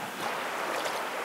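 A boat moving on cold river water beside a whirlpool, with steady broadband rushing and splashing of water close by, continuous and fairly loud throughout with no talk.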